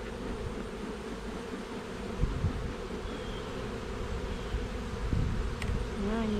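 Honeybees from an aggressive hive buzzing after a frame was dropped, a steady dense swarm drone with occasional nearer passes, moderately quiet and continuous, no voices.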